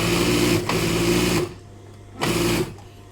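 A sewing machine stitches a trouser hem, running in a steady close whir for about a second and a half, pausing, then giving one short second burst.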